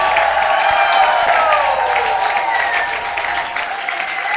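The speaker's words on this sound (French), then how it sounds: "Acclame en français," A church congregation at an evangelical centre applauding and cheering, a dense, steady wash of clapping from a large crowd with a sung or sustained voice carried over it.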